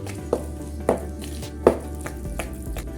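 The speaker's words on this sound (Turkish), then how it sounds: "Önce kaşıkla karıştırıyorum." A spoon stirs flour cookie dough in a bowl, three distinct knocks against the side over a low background hum, followed by softer scraping.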